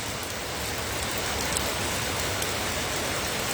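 Steady rain in a flood-hit area pours down evenly as a dense, unbroken hiss, with no voices and no pauses.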